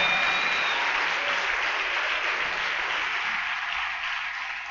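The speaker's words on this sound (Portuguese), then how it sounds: "Dá um aplauso a ele aí bem forte." A church congregation breaks into loud, sustained applause, a steady wash of many hands clapping that slowly tapers off toward the end.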